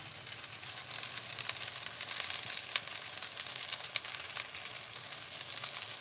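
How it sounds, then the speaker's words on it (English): Chicken sizzles steadily in a hot frying pan, a continuous bright crackle with scattered pops, close and even throughout with no voices. "that's sounding like it's sizzling, smoking a little bit"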